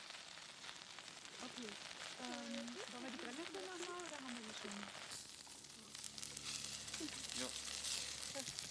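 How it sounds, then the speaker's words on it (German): Stinging nettles frying in olive oil in a pan during a winter forest outing, giving a steady broadband sizzle that runs throughout beneath voices talking, growing louder and denser in the second half. "In der Pfanne brutzeln Brennnesseln mit Olivenöl."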